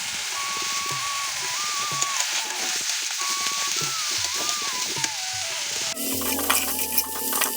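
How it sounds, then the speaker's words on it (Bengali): Red amaranth greens fry in a home pan for a vegetarian Bengali meal, making a steady close sizzle with scattered stirring scrapes, while a faint melodic tone wavers in the background. "লাল শাকটা ভালো করে ভেজে নিচ্ছি, আর সাথে বাঁধাকপিটাও হচ্ছে এদিকে।"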